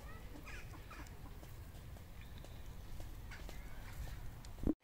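Hens clucking in an outdoor animal park in Brittany, soft scattered clucks at a moderate distance over steady background murmur, ending in a brief louder knock before cutting out.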